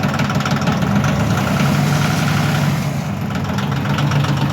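The Yanmar diesel engine of a Cub Cadet mower idles steadily just after a cold start, a close, loud, even knocking rumble with no talk over it.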